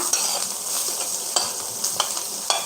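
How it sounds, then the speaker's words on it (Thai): Coriander root and pickled radish are stir-fried with garlic in a pan for pad thai. A steady sizzle runs under sharp, repeated scraping strokes of the spatula, close and loud, with no talk. "รากผักชีนะ ผัดเลย แล้วนี่ตามด้วยหัวไชโป้ค่ะ"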